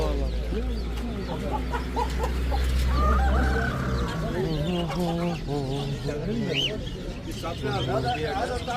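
Many egg-laying hens cluck and chatter close by, overlapping calls at a bird market in Adana, with a low hum and some people talking underneath.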